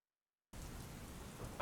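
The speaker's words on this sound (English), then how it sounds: "It's raining too?" Steady rain falling in a video game, a dense even patter that starts abruptly after a brief silence and stays constant.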